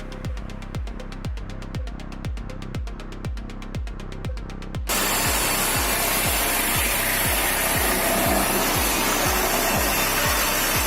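Screw auger boring into a 2-foot tree stump: rapid, regular rubbing and grinding pulses for about five seconds, then a loud continuous wood-grinding roar with the rhythmic pulses still beneath, close by and with no talk.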